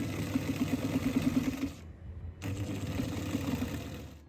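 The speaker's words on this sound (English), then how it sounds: "Sewing with my Janot machine is truly a blessing of efficiency" A Janome sewing machine stitches in a steady rapid rhythm up close, pausing for about half a second before starting again, with a faint background hum throughout.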